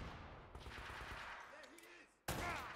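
Shotgun fire in the video game Uncharted: a burst of gunshots at moderate volume, then a quieter stretch with faint tones, and a sharp loud blast near the end.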